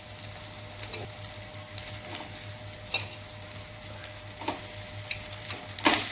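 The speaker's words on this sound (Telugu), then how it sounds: "అన్నం ఇందులో వేసుకోవాలి" A spoon stirs cooked rice into hot tempering of peanuts, turmeric and asafoetida in a pan, with a steady low sizzle under irregular scraping strokes, a few sharper clinks near the end.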